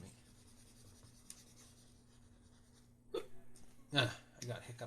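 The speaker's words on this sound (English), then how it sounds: "I got hiccups again." A person with hiccups, giving a few short, sharp hiccups after a long stretch of near-quiet room tone, close and soft.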